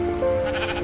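Sheep bleating in the video game Minecraft, a single short wavering bleat, clear and close, with no talk over it.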